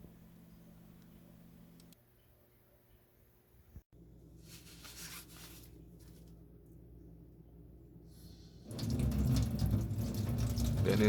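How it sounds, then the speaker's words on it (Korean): Running tap water splashes over a pear as it is rinsed, a steady soft wash that grows louder and fuller toward the end, with no voices. "배는 흐르는 물에 씻어 물에 10분 정도 담가 배 껍질에 남아있는 잔류 농약을 제거합니다."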